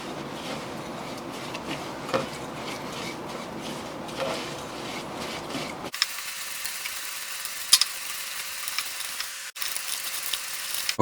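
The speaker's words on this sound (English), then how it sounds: "Let's start by adding in the 3/4 cup of brown sugar to the 1/2 cup of unsalted butter. And then we cream that together." An electric mixer whirs steadily while it creams brown sugar into unsalted butter, with a continuous motor hum and soft grinding, beating texture close by and no voices.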